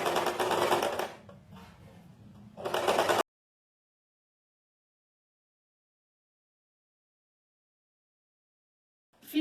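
A sewing machine stitches along the creased edge of a short-sleeved shirt in two short bursts of fast, even whirring with a brief pause between them, then goes silent for several seconds.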